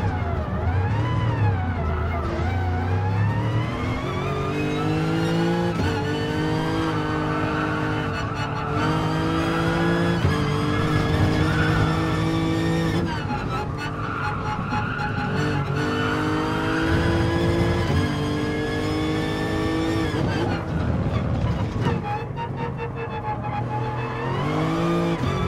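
A race car braking and passing, engine note rising and falling through gear changes with tire noise, loud and close for a long stretch, no speech.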